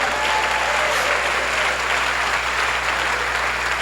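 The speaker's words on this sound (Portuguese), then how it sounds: "Quer aplaudir? Vamos lá." A church congregation claps together, a steady wash of applause holding level for the whole span with a low hum underneath and no talking over it.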